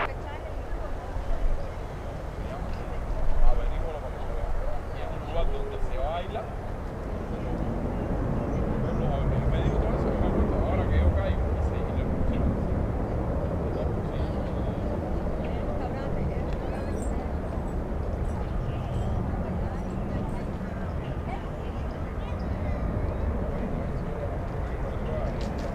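An American Airlines Boeing 777 lands at Miami airport in stormy weather. A low, steady roar of jet engine and wind rumble runs throughout, while radio chatter and talk continue over it.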